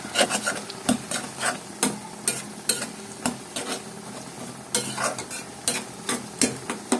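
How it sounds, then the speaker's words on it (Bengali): An egg stirred through hot oil in a pan while cooking Bengali dal bhuna, with rhythmic scraping stir strokes over a steady sizzle and frying crackle, close and alone. "ডিমটা তেলের মধ্যে নিয়ে এভাবেই ঘেটে নেব।"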